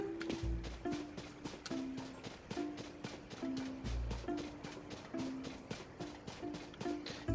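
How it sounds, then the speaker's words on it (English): Horse hooves in a video game beat a fast, regular clip-clop throughout, with steady even strikes and occasional low thumps. Close and fairly quiet, with no voices. "bring in a horse"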